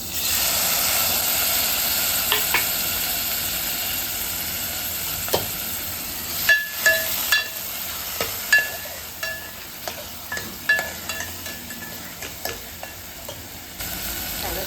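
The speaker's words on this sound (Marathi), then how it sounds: "हिंग यामध्ये टॅमॅटो घालते बारीक चिरून घेतलेलं" Finely chopped tomato tipped into hot oil seasoned with asafoetida, a steady close sizzle and fry with stirring clatter and scraping, sharper bursts of spattering in the middle and later moments.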